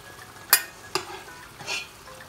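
Onions fry in a pan with sauce and spices, a soft sizzle broken by a few brief scraping and clinking stirs of a utensil against the pan.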